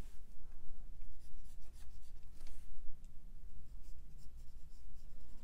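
Pencil scratches and rubs across paper at close range, soft irregular strokes coming in quick bursts and short pauses while a Spider-Man villain, the Scorpion, is sketched.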